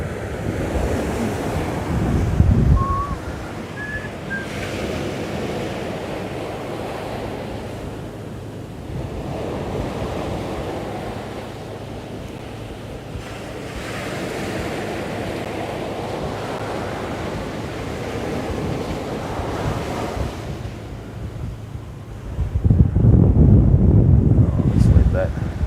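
Strong southerly wind gusts buffet the microphone while surf washes steadily onto a fishing beach, the roar swelling loudest at the start and end, with a voice talking faintly over it.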